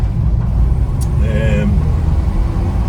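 Classic Ford Escort van, around forty years old, driving on the road: a steady low engine and road rumble sits underneath someone talking, with a brief higher squeak or whine breaking in partway through.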